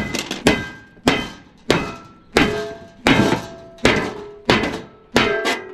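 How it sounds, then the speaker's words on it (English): A hammer strikes a copper piece to knock it out of a BOHN walk-in cooler evaporator during a teardown, landing eight loud, close metallic blows at a steady rhythm, each ringing briefly before the next. "we're gonna cheat and just hit it with a hammer and pop it out."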